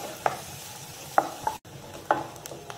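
Finely chopped onion sautés lightly in a pan, with a soft, steady sizzle under three distinct sharp scrapes of a spatula against the pan.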